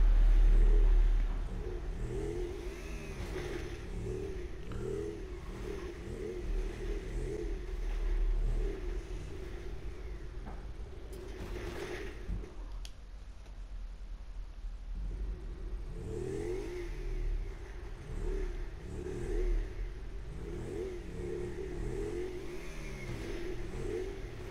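A motorcycle engine in a GTA 5 video game race drones steadily, rising and falling with throttle changes, then briefly drops out before the engine hum resumes.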